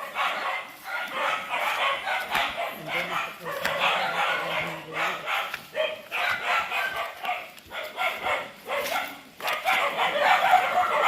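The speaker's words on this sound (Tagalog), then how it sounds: "Nag-ingay na yung mga aso." Several dogs bark and yip repeatedly at close range, mixed with people talking and general outdoor commotion.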